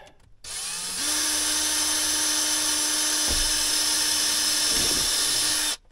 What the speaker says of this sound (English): And then let's drill it.